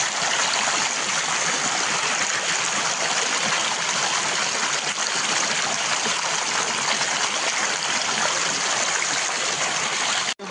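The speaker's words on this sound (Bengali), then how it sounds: "খুবই সুন্দর ঝর্ণা নামে ইয়া," Steady, loud rush of a waterfall at a scenic spot in Hailakandi, with water gushing and splashing continuously and evenly for the whole stretch, no voices.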